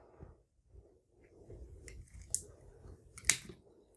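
A Xiaomi M1 power bank's plastic casing is cut up close, giving a few soft crunching snips and one or two sharp cracks against quiet surroundings, with no talking.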